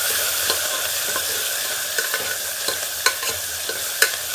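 Onions frying in a pan for a rice bath, a steady close sizzle with regular scraping stirs and light clacks of a spoon on the pan, no voices.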